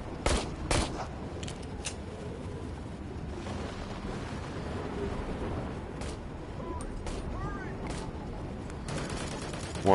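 Gunfire in the VR game Immortal Legacy: The Jade Cypher, set in a mountain cave area: scattered sharp shots and bursts over a rumbling background, moderately loud, with a voice briefly heard.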